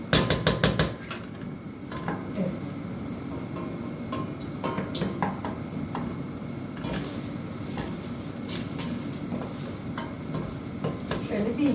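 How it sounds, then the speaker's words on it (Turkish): Onions sauté in a pan for an anchovy soup, with a soft, steady sizzle and intermittent clinks and scrapes of a utensil against the pan, beginning with a quick burst of taps. "2 dakika daha kavrayayım tamamdır. Evet soğanlarımızı kavurduk."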